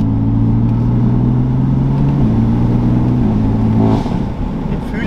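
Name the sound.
BMW M3 F80 turbo six-cylinder engine revving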